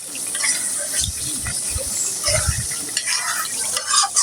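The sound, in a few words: frying chicken roast spices in pan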